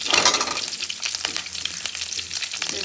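Onions frying in a hot pan for homemade paneer butter masala, a loud close sizzle with stirring scrapes throughout.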